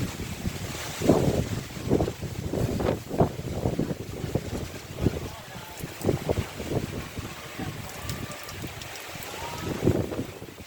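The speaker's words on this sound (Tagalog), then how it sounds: "Ang lakas ng hangin, oh." Strong typhoon wind buffets the microphone in repeated heavy gusts before landfall, roaring and fading over several seconds, with no one speaking.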